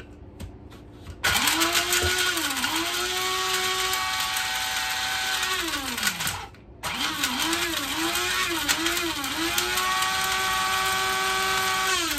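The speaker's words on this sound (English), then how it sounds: "the next step is just add them into your grinder here" A small electric grinder whirs up dehydrated garlic and onion into powder, its motor starting with a rising whine, pitch wavering with the load, a brief pause, then a second long run, loud and close.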